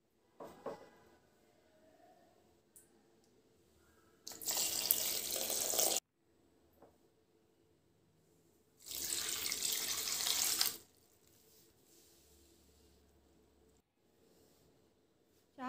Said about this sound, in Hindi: इनमें मैं अब पत्तियों में पानी डालूंगी और इसे अच्छे से धो लूँगी